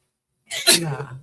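A single loud sneeze close by, a sharp breathy burst trailing into a voiced tail.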